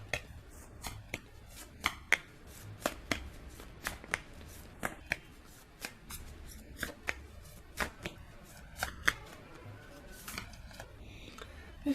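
Tarot cards are shuffled by hand in a series of sharp, crisp riffles and taps, repeating roughly every second, close and fairly quiet.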